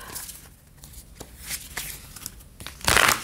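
Astrology-themed tarot cards being shuffled by hand, a few soft riffling bursts building to a louder, denser riffle near the end, close and alone.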